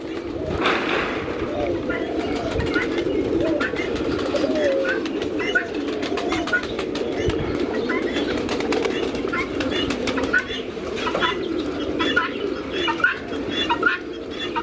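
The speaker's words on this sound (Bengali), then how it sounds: "বেশিরভাগই গ্রিবাজ কবুতর।" Giribaz pigeons coo softly and continuously in a large pigeon house at a garden resort, a low murmuring chorus with scattered chirps and a few wing flutters, with faint talk in the background.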